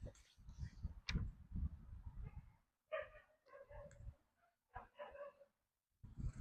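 A dog barks in several short bursts with gaps between them, moderately near and fairly loud, with brief whimpering-like yips between barks.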